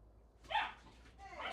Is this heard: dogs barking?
yes